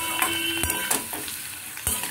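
Spiced cauliflower and potato sauté in a pan, a close sizzle broken by a few sharp scrapes and knocks of a spatula as the masala is stirred.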